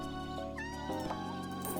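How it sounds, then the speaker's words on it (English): A cat meows in the video game Minami Lane: a short, close, clear meow over soft background game music. "Kitty!"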